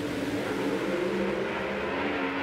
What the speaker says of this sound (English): a Mike Janis supercharged Hemi built by Mike Janis on the starting line right now